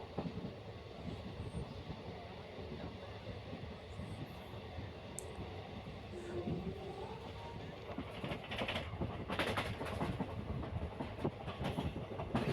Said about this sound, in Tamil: ஸோ காட்டு வழியாக இன்றைக்கி ட்ரெயின் நம்ம ட்ராவல் பண்ண போகிறோம்.